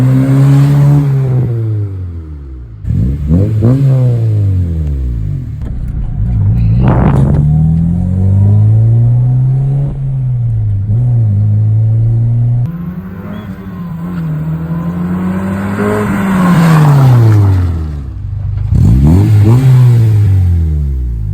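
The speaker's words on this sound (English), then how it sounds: "you guys also get to see how it is driving Honda Integra Type R DC2" A Honda Integra Type R DC2 is driven through Japanese streets toward a port, its engine revving loudly and repeatedly through the gears, pitch climbing and dropping in steady sweeps, close up with no talking.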